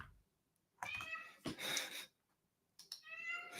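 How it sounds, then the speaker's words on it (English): A pet cat meows up close, giving three drawn-out, loud meows separated by short pauses, with no talking. "So my cat is called Syrup"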